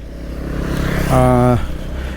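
Motorbike engine drone on a road trip, a steady nearby hum with a brief rising rev in the middle, heard under wind.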